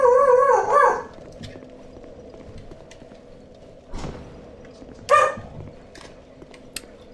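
A dog barking in the dark fantasy game Dark Souls 2, with a loud yelping, howling burst at the start, then two more sharp barks later over quiet background ambience.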